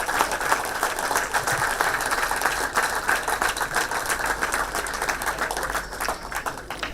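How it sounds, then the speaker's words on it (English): Warm round of applause as an audience gives a standing ovation for the Chief Minister at a public event, a steady dense patter of clapping sustained throughout at moderate level. "I appreciate if we give our Chief Minister a standing ovation with"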